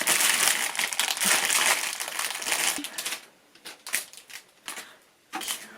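Plastic bags of Lego parts are torn open and handled, giving dense, loud crinkling and rustling at first, then sparser, separate crackles and rattles as the bags settle.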